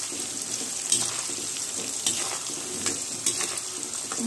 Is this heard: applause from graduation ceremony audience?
no